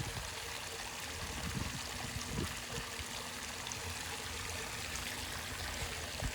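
Drainage water gushes steadily from a pump outlet in the aftermath of Hurricane Milton, a continuous broadband splashing and trickling flow that stays close and fairly loud throughout, with no voices over it.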